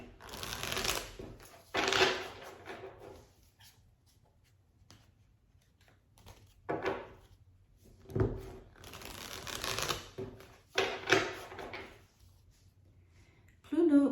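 A tarot card deck is shuffled in several bursts of riffling and flicking cards, separated by short pauses, up close and fairly loud.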